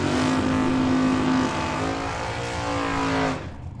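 A drag racing car in a Race Tech chassis launches at Tucson Dragway, its engine a loud, steady, high-pitched roar that holds for about three seconds before cutting off abruptly.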